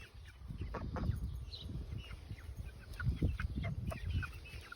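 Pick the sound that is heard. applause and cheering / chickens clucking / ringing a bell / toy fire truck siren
chickens clucking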